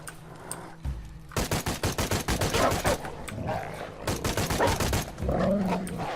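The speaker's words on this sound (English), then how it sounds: "the assault rifle is blatantly better than the bow there for killing these guys" Assault rifle fire in Shadow of the Tomb Raider, rapid close bursts of automatic shots in two long strings, with a dog barking amid the combat.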